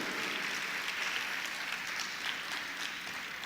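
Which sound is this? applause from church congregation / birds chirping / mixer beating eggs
applause from church congregation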